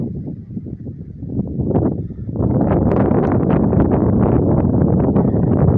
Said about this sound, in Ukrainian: Вітряно.